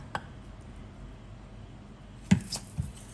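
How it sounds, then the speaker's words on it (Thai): A few close knife chops hit a board while cutting pork bones, one early and a cluster of two or three near the end, separated by quiet pauses. "หลังจากนั้นหั่นกระดูกหมูค่ะ"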